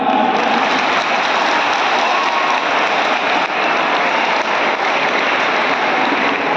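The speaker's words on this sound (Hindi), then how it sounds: "फिर परम आदरणीय कैलाश जी के लिए जोरदार तालियां" A student environmental parliament audience at the Etawah festival applauds loudly for Kailash ji, a dense, steady wash of clapping that holds at full strength throughout with no voices standing out.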